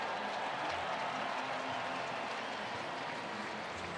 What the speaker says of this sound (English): Pretty big crowd here at American Family Field on this Friday night.